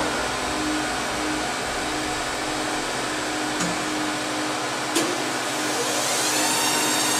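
A hot air blower runs on a film-sealing machine handling food-grade anti-fog polypropylene, with its infrared system engaged: a steady, loud, broadband whooshing roar that holds constant throughout, with a couple of faint clicks and no talking.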